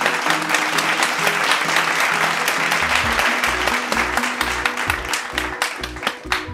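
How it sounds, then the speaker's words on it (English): A high school assembly crowd applauds incoming freshmen with steady, loud, dense clapping throughout, over a low droning background tone. "Give yourselves a round of applause."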